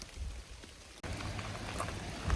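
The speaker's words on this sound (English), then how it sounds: "it's been raining pretty hard" Heavy rain pours down on a hiking trail, a dense steady hiss that swells noticeably louder after the first second and continues without a break, with no voices.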